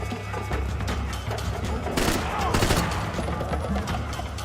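Dense, continuous gunfire from the video game Max Payne 3, with rapid bursts and loud impacts close up, and a voice speaking underneath.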